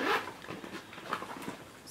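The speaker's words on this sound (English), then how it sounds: "it's got this huge pouch on the inside, and it's got a zipper" A zipper slides along the deep inner pouch of a Louis Vuitton bag in short quick rasps, close and fairly soft, with no talking.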